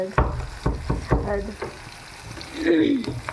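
Onion, chili and curry leaves fry in oil in a home kitchen, giving a soft sizzle with several sharp stirring knocks in the first half and a fainter sizzle later, while someone talks nearby.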